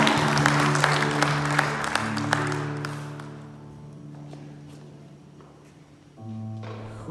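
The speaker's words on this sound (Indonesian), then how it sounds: "Kita beri tepuk tangan buat Tuhan kita." A church congregation claps for God during a Sunday service, a dense wash of applause that fades over several seconds while sustained organ or keyboard tones carry underneath and swell again near the end.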